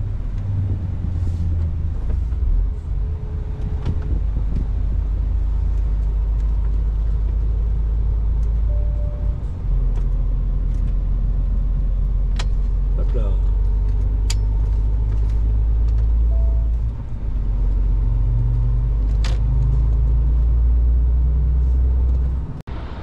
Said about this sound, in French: le camion est derrière, le moteur est en train de tourner, la clim est déjà à fond